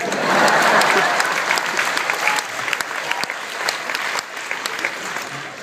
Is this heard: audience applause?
yes